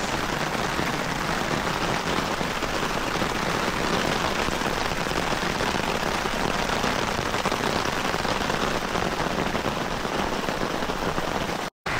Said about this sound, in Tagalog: Medyo malakas-lakas yung ulan.